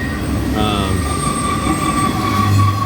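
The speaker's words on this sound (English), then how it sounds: "here's that train I was going to catch" A train rolls past on the railway along Route 66 in Arizona, loud and close, with steady rumbling, a rhythmic clatter of wheels and a sustained faint squeal.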